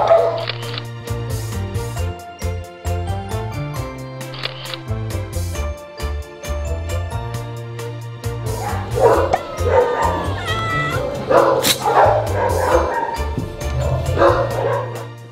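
Many dogs at a stray animal shelter bark, yip and whimper, some close and loud, others farther off, in overlapping bursts with quieter gaps between.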